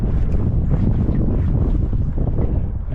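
Steady wind rushing over open shallow water during a fishing session, a dense continuous roar buffeting the microphone with no pauses or voices.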